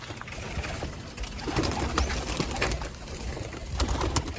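Several male pigeons coo and murmur close by in overlapping, rolling calls, with a steady background hum and occasional rustling.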